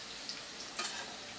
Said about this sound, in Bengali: আলু ভাজা এখনো হচ্ছে